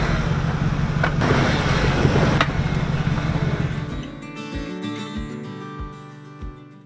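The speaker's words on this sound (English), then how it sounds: "I was able to get my Jeep turned around and heading back down the mountain" A Jeep drives back down a snowy mountain, its engine a loud, steady rumble that fades and gives way to a few soft thumps and rattles near the end.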